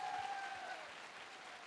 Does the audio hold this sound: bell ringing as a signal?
no